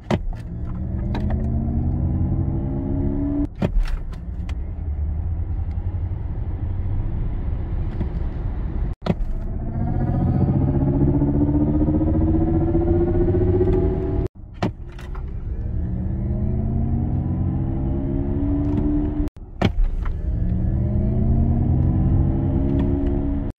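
A Mercedes EQS 580 electric car driving, its synthetic drive sound rising in repeated sweeping, spaceship-like whooshes over steady road rumble, broken by brief sharp clicks, with no talking.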